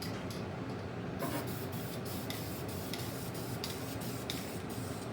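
A steady hissing spray from an aerosol can, continuous and fairly close, with a few short bursts and clicks mixed in.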